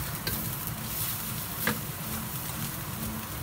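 Beef fried rice with white jasmine rice being stirred in a hot pan, a soft continuous sizzle with a few faint scraping touches, close and fairly quiet.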